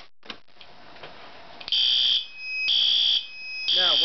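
Fire alarm system sounding during a panel test: bursts of loud electronic alarm tone in repeated on-off pulses, with a whooping sweep at the end, following a few faint clicks.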